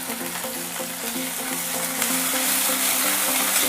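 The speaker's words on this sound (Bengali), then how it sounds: "এবার এর মধ্যে দিয়ে দিচ্ছি আদা ও রসুনের পেস্ট।" Onions fry in a pan for an egg curry as ginger and garlic paste goes in, producing a continuous close sizzle that swells louder partway through, with faint background music.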